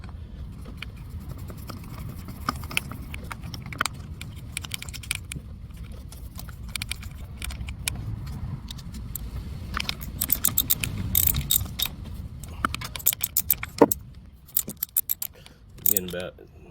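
A ratchet clicks in quick bursts while long bolts are tightened on a 2.4 Ecotec engine in a 2007 Chevy HHR, with metallic tool clinks and handling noise, growing busier toward the end.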